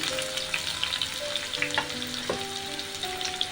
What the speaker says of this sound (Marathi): तेल आपलं गरम झालेलं आहे त्याच्यामध्ये आपण आता बारीक चिरून एक कांदा घेतलाय मोठा बारीक चिरून तो टाकून देऊ